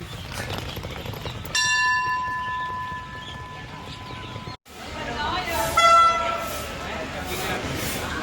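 At Hua Hin station in Thailand, a train passes with a ringing bell and a long horn blast, then a second horn tone later, amid rumbling platform noise and background voices.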